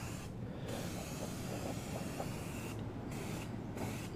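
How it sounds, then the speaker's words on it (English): An aerosol spray can lightly coats a part with a steady close hiss, broken by a few short pauses between bursts. "If I can get it to come out of this can."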